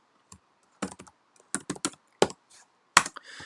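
A computer keyboard typed on to rename a sketch in FreeCAD: a handful of sharp, close key taps in uneven clusters, alone in a quiet room.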